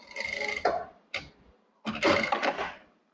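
A Jack A4 sewing machine gives a few short mechanical clatters and clicks as its presser foot lifts, three separate bursts with quiet gaps between them and no talking.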